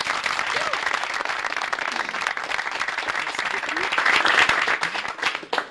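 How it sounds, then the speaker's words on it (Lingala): An audience at a televised show applauds loudly and continuously, a thick wash of many clapping hands that swells near the end before tapering off. "Une fois de plus, on acclame très fort."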